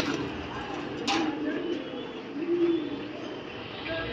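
Pigeons cooing, a pair of young adult birds in moult in a loft, with low repeated coos under a steady murmur of background noise and a brief sharp click near the start.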